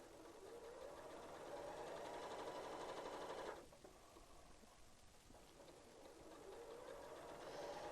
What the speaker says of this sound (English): And keep stitching straight on through.